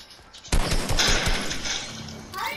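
Rapid bursts of close, loud gunfire in Fortnite crack in a dense cluster lasting about two seconds, then fade as a voice briefly speaks over the tail.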